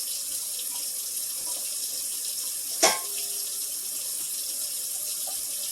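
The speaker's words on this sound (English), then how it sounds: "Let's get the water running for a minute." Tap water runs steadily into a cooking pot at a kitchen sink, a constant hiss of flow with one brief louder splash midway, no voices.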